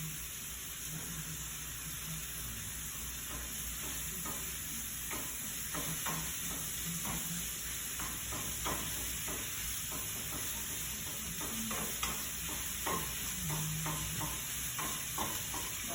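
Ground meat fries quietly in a pan while a utensil repeatedly scrapes and breaks it into crumbles, giving a soft sizzle punctuated by irregular stirring knocks over a steady background hum.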